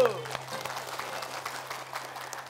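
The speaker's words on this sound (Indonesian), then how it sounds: "Tepuk tangan Ibu." Studio audience applause on an Islamic religious talk show, a moderate, continuous patter of many hands clapping, fairly distant, with a steady low hum beneath.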